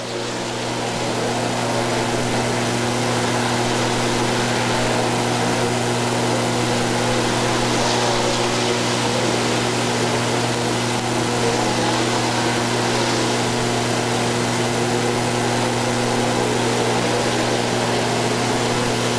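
ASCS Warrior sprint car engines race at Lucas Oil Speedway, a steady, dense roar that holds at an even loudness for the whole stretch, with a low, constant hum underneath and no voices.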